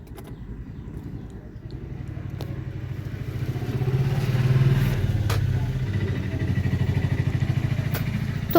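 A sewing machine runs a steady line of stitching along a blouse hook strip, its rapid rhythmic clatter continuing close and fairly quiet, swelling slightly midway.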